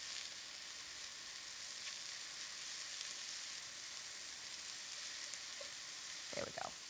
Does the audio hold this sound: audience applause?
no